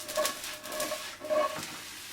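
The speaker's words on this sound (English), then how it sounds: "we've got a pan here filled with some oil. It's nice and hot, and we're just going to saute off some mushrooms" Mushrooms sautéing in a pan of hot oil, a steady sizzle with scraping stir strokes and faint clinks of a utensil on the pan, close and continuous without talk.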